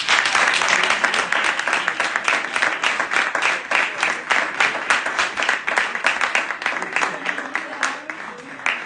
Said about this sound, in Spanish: es el momento del aplauso también